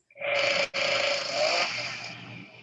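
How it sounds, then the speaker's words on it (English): A chainsaw sound played back from a device buzzes steadily and fairly close, with one brief cut-out before it resumes and slowly fades. No one speaks over it. "What is that noise? It's a chainsaw."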